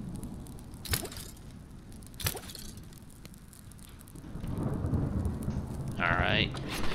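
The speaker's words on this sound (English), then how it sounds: "Now it's gonna rain." Rain and rolling thunder in the survival game Smalland: Survive the Wilds, with two sharp thunder cracks early on, then a steadily building wash of rainfall that grows louder toward the end.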